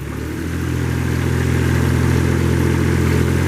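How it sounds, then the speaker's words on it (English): The Kubota engine of a 2009 Moffett 45P truck-mounted forklift rises quickly into a steady, close, droning idle and keeps running evenly. "Hear that Kubota come to life."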